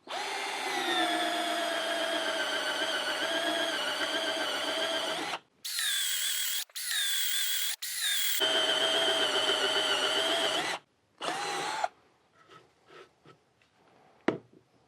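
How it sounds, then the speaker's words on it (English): A Hyper Tough 12-volt brushed single-speed drill runs in several loud, steady whirring bursts, with brief stops between them, then trails off into a few faint clicks and taps. "First up is our Hyper Tough 12-volt brush drill, single speed."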